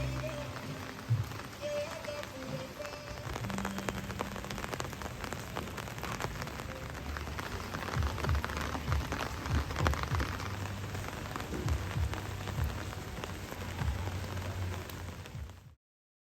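Steady rain falling in the old town of Hoi An, Vietnam, a dense, continuous patter of drops on surfaces with occasional heavier splashes, holding evenly for the whole stretch before cutting off.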